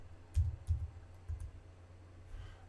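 A number typed on a computer keyboard: a few soft, low keystroke taps spaced apart in a quiet room.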